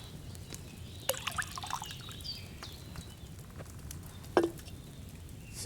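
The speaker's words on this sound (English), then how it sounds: "First, you have to pour the right base into the cauldron." Wine poured from a pitcher into a cauldron in the video game Kingdom Come: Deliverance II, a quiet trickling and dripping splash with a few brighter clinks, soft and close over a faint background.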